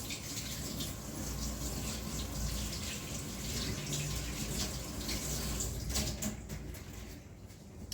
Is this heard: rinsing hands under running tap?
yes